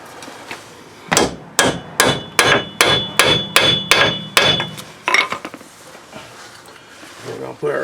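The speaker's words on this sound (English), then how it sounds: "Now I'm just going to hammer that down." A hammer strikes a bolt extractor onto a rounded bolt on a seized hub about ten times in a quick, even rhythm, loud and close, followed by a few lighter taps and clinks.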